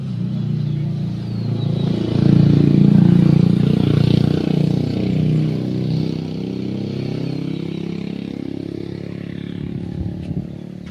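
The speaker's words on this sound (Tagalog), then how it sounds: "Yung mga motor namin ni Glenn." Motorcycles on a road trip near Laguna Lake give a steady, fairly loud low engine drone with rising revs, running alone with no talk.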